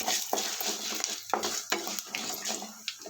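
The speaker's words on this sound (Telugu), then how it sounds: "ఇప్పుడు ధనియాలు వేసేస్తున్నాను ధనియాలను కూడా వేపించేస్తాను" Coriander seeds stirred and roasted in a pan with fried urad dal, with repeated sharp metallic clinks and scrapes of a spoon against the pan over a soft, dry sizzle.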